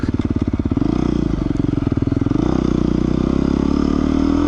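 A Beta 390 RR-S dual sport motorcycle runs close by with a steady, throbbing single-cylinder engine note, pulsing rapidly and rising slightly in pitch as it is ridden, loud and continuous throughout.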